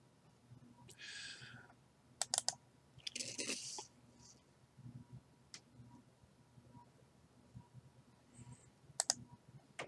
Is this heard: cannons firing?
no